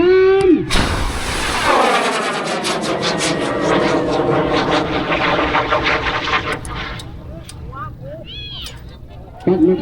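A bamboo rocket launching at a Bun Bang Fai festival, a loud roaring rush that starts abruptly and holds for several seconds before thinning out, with voices and crowd noise around it.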